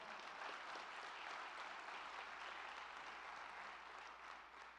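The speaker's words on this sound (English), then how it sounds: "How about a round of applause for that?" A church audience gives a round of applause, a continuous, fairly distant clapping that holds steady and only eases slightly toward the end.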